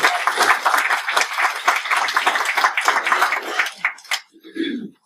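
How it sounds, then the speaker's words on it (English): An audience applauds at a talk about diabetes, a short burst of brisk, fairly close clapping that tapers off and ends, with a brief voice after it. "Can we give her applause?"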